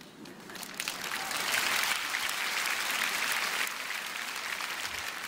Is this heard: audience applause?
yes